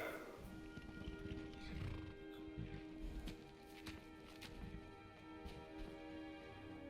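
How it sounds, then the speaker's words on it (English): A summoned horse in the Skyrim video game whinnies and clops its hooves in a steady walking rhythm. The sound is close and continuous, and a faint voice sits low in the mix. "let's summon our horse"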